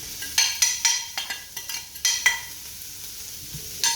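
Spring onion stir-fried in a pan for vegetable fried rice: a rapid series of spatula scrapes and clanks against the pan over a steady sizzle, rhythmic and close, with no talking.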